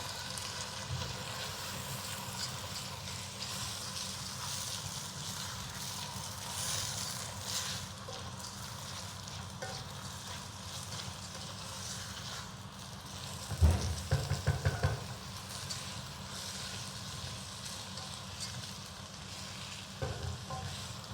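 Rice sizzles and crackles in a hot pan with thyme while a utensil scrapes and stirs through it, frying off the water for Nigerian fried rice, with a few louder knocks partway through.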